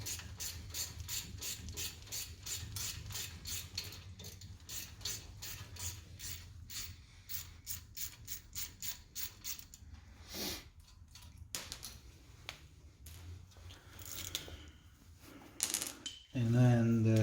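A ratchet clicks rapidly and repeatedly as it undoes an 8 mm ABS line bolt on a Ford Raptor, close-up bursts of metallic clicking with brief pauses, ending in a short clunk.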